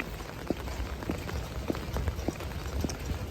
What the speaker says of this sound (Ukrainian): сьогодні йду так, оце по дощу. Парасолечкою своєю.